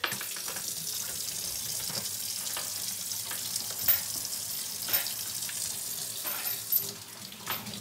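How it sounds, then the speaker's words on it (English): Running tap water pours into a kitchen sink while hands are washed, a continuous bright hiss with small splashes and shifts as the hands move under the stream. "the first thing we're gonna do is wash our fucking dirty hands"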